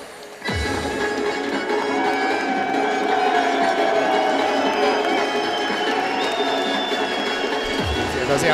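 A crowd cheers in an arena at a Vendetta 31 fight event, a loud, sustained roar of shouting and whistling that swells after a short quiet opening while a commentator's voice runs underneath.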